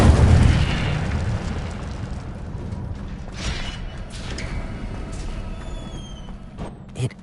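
Incendio fire spell cast in the Hogwarts Legacy video game on PS5: a loud, booming burst opens the clip, then fades into a long rumbling roar with scattered crackles and a brief pop near the end.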